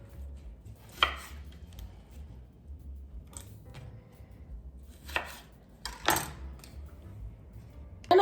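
A knife slices through a lemon on a cutting board with a few sharp, separate chopping knocks spread out over several seconds, close by and otherwise quiet.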